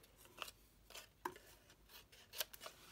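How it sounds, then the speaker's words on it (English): Scissors trimming a crochet piece, giving several faint, close snips spaced irregularly over a few seconds in an otherwise quiet room. "Might trim a bit more off."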